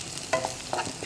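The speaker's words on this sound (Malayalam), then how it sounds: "ഒന്നുകൂടെ ഇളക്കുന്നു." A banana mixture frying in ghee is stirred: a soft sizzle runs underneath two or three scraping strokes of a spoon against the pan, close and quiet, with no voices.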